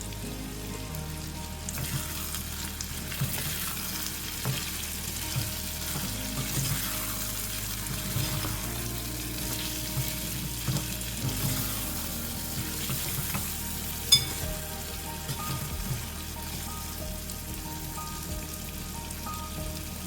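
Kaleji, a chicken liver masala, fries in a pan with a dense, continuous sizzle while it is stirred, and occasional faint utensil scrapes sit close under the steady hiss.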